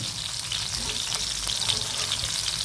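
Sardines coated in rava fry in oil over medium heat, giving a steady close sizzle with faint crackles and light stirring throughout.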